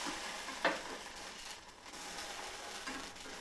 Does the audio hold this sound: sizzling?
yes